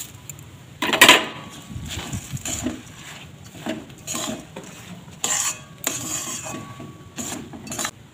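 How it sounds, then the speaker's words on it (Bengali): Puffed rice being mixed with melted jaggery in a pan over low heat, with repeated scraping and knocking strokes of a spoon against the pan and a faint sizzle underneath, close and clear with no voices. "মুড়ির সঙ্গে গুড়টা অল্প অল্প দিয়ে মিশিয়ে নিচ্ছি।"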